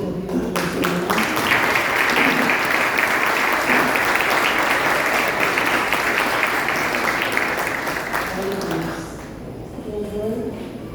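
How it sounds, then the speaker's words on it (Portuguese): Sustained congregational applause fills a church hall, loud and steady for about eight seconds before thinning out, with voices rising over the tail end. "Vamos aplaudir Jesus pela vida do nosso irmão"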